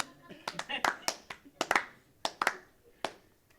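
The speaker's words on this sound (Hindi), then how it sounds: "अब ताली चाहिए." A few people clap at a casual gathering on a last-day shoot, scattered uneven claps in short bursts rather than steady applause, close and moderately loud, with quiet talk in between.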